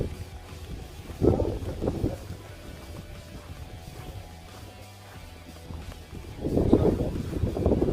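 Wind gusts buffet the microphone outdoors near a tree during air rifle target shooting, producing low rumbling surges that rise around the second second and again near the end, over a steady background hush.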